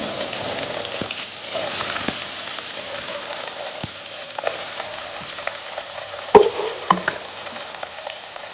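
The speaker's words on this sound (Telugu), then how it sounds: "బాగా ఆయిల్ హీట్ అయిన తర్వాత ఎండు నత్తలు వేసుకుంటున్నా." Dried small fish hitting hot oil in a kadai make a steady broadband crackle and sizzle with scattered sharp pops, loudest near the end, and no talking.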